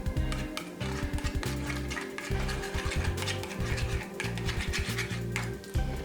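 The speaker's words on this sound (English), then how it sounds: "I'm going to drop that in and just stir" A small homemade eyelash remedy mixture stirred by hand in a little container, with rapid repeated clinking and scraping strokes in an uneven rhythm, close and fairly quiet.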